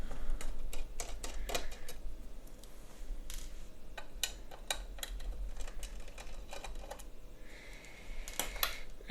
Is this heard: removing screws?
yes